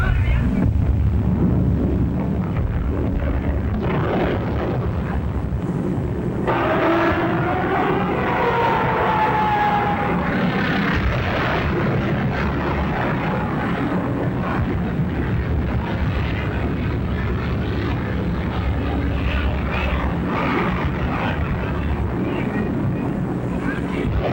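Wartime bombing raid aircraft roar in a loud, continuous droning rumble with heavy wind-like noise, and rising and falling tones swell midway through.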